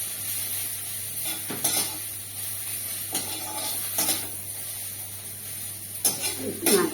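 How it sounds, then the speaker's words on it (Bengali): Data (vegetable stalks) frying in a pan with a steady soft sizzle, broken by a few bursts of stirring and scraping against the pan at intervals. "ডাটা ভাজা প্রায় হয়ে গেছে।"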